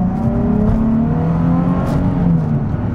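A Nissan 370Z's 3.7-litre V6 accelerates, a loud, continuous engine note climbing steadily in pitch with a rich, even growl and no pauses.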